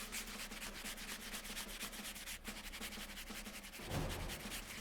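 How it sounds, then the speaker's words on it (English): A hand drill is spun back and forth between the palms to bore into wood, a medieval surgical tool, making a quick, rhythmic rasping scrape that repeats steadily up close. "I want you to put the drill between both hands and spin."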